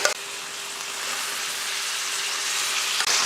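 Boiled mutton sautés with ground masala in a pan, a close, steady sizzling hiss that holds level throughout, broken by a brief clunk near the start and another near the end, with no talk.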